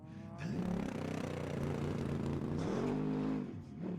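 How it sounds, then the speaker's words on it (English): A Mercedes-AMG race car engine roars past at high revs during an endurance race, a loud sustained mechanical howl that builds, holds, then drops away near the end. "That is a ridiculous sound from that AMG."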